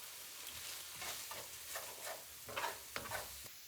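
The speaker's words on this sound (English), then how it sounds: "Stir it together and combine it well." Spoon working through a braised beef sauce of tomato puree, cinnamon, garlic, orange extract, bay leaves and brown sugar, faint scraping and soft sizzle in a pan, quiet and close.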